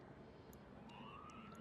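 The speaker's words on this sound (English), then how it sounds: "You can hear the sirens there." Police sirens wail faintly in the distance on a Los Angeles street, one rising tone climbing steadily through the second half over a low, steady wash of city noise.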